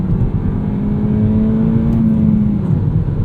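A 2019 Toyota Corolla XSE hatchback with a six-speed manual gearbox revs hard and steadily, a loud, continuous engine drone with a rising whine that holds near and strong throughout, with no talking over it.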